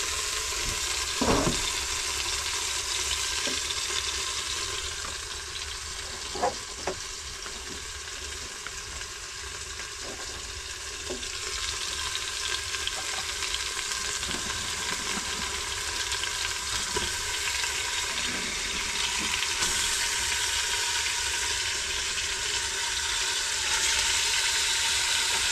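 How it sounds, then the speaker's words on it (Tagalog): Garlic, onion and ginger sauté in a pan, giving a continuous broadband sizzle that runs steadily throughout, with a few faint clinks and no voices. "Amoy ng ginisang bawang sibuyas luya."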